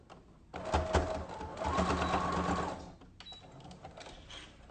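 A sewing machine stitching a pleated fabric face mask runs in a close, steady whirring burst, pauses briefly, then hums on more quietly, with no voices.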